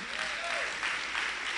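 A church congregation breaks into a short burst of steady, dense clapping, with a voice briefly heard over it.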